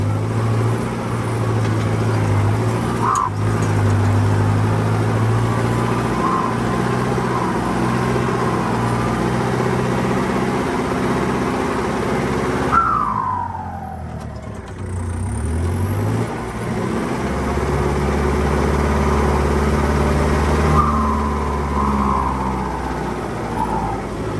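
Turbocharged Mitsubishi-type pickup engine pulling hard on a long run over dirt, a steady loud drone with shifting tones, a brief gear-change dip midway before the revs climb again.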